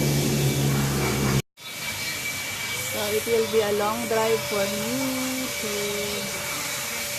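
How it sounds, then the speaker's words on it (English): A vacuum cleaner hums inside a small car at a car wash, a steady whine with wavering tonal pitch. A loud burst cuts off briefly near the start, and a person talks over the noise. "They do the vacuum inside and clean and dry out my car"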